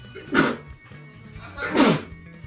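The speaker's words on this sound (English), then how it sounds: "I'm sneezing." Two sharp, loud sneezes about a second and a half apart, close by, over a low background murmur.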